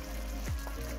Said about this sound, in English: Okay, I'm gonna add soy sauce.